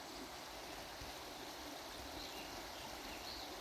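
River water flows steadily near Los Asientos, a soft, even rushing hiss that carries on without a break and stays faint in the background.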